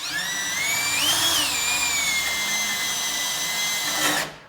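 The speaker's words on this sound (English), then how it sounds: "Just get you a 2 1/8 hole saw bit" A power drill with a 2 1/8 inch hole saw bit cuts into an interior door, a loud, steady whining drone with a pitch that rises and dips as the saw bites, then stops abruptly at the end. Nobody speaks.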